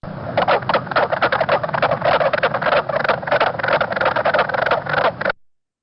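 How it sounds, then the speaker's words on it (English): A wetland chorus of mink frog calls forms a rapid, continuous run of knocking notes, loud and dense like a wall of sound, cutting off abruptly near the end. "if you get a wetland where there's a lot of mink frogs, like it can be a really loud wall of sound of these calls"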